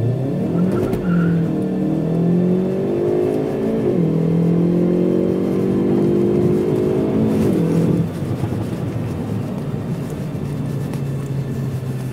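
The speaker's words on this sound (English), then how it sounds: "I release the brake, and here we go" A Hyundai i30 N leaps off the line under launch control, its engine note climbing hard through several rising sweeps broken by quick gear shifts, with tire noise, before the sound cuts back to a lower steady drone.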